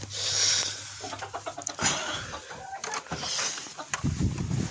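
Italian breed hen clucking nearby, a run of short throaty clucks and fowl calls over a rustling, busy farmyard background, with no talking.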